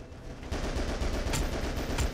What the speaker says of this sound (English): Got me with the KF-7 Soviet, which I'm guessing is an AK